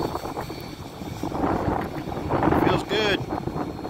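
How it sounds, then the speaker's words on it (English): Wind rushes past the microphone high up on a WISP access point tower at an RV park, a steady moderate roar with a person speaking briefly under it. "A little windy up here today."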